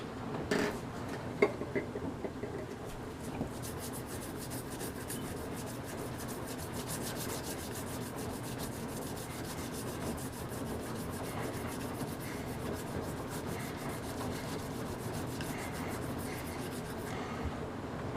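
A polishing compound crayon is rubbed onto a knife-sharpening surface, giving a steady, close scratchy rubbing that runs without a break, with a few sharper scrapes near the start and no talking.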